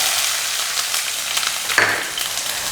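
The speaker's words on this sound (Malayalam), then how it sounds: "ഇനി നമുക്ക് ഇതിനകത്തോട്ട് അരിഞ്ഞു വെച്ചിരിക്കുന്ന സവാള ഇട്ട് കൊടുക്കാം" Chopped onions go into a hot pan and sizzle and crackle steadily, a close, even frying hiss with a brief stir or clink partway through.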